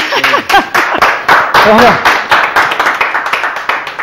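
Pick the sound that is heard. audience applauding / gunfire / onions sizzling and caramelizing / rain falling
audience applauding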